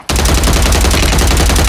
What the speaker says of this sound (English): Ain't no way that gun blazing like that.